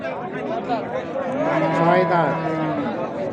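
A cow lows at a cattle market, a long, loud, close moo with a rising and falling pitch, while voices chatter in the background.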